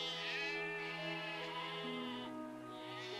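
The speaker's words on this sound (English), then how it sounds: "Shut up, sheep. Stop it. So loud." Sheep in the Settlement Survival city-building game bleat loudly again and again, the overlapping calls filling the whole stretch with no talking.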